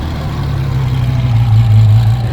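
A long-unused car warming up at idle, a steady low engine drone with a slight rhythmic pulse, loud and close, uninterrupted by voices.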